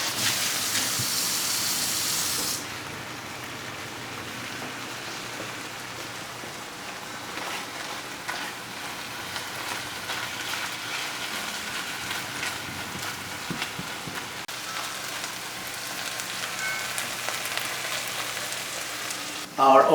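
Beaten duck egg seasoned with Vegeta sizzling in a pan as a frittata: a steady, fine crackling hiss that holds for the whole stretch, with an occasional soft clink.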